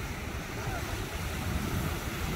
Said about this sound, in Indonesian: Ombak kuat eh. Pagi ni angin pun kuat.